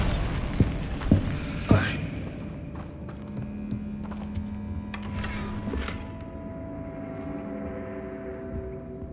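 Bombarda blasting spells in Hogwarts Legacy go off as a few sharp booming impacts early on, followed by a later blast. Lingering hum and faint rumbles fill the background.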